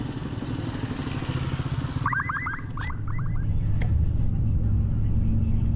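A motorcycle engine idles and revs steadily close by, a continuous low rumble at a construction project site in Montalban, with people talking over it and a short squeaky chirping burst partway through.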